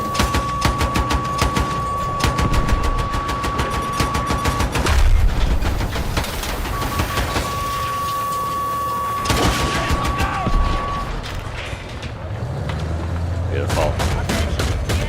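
Loud, rapid automatic gunfire fills a Battlefield 6 match at max settings, with dense repeating bursts, heavier booms and a pause in between, while a player talks occasionally.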